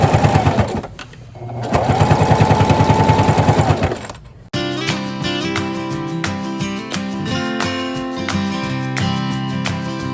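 A sewing machine back stitching a corset runs in steady bursts, with a brief pause and then a long rapid run of needle strokes, loud and close, with no talk.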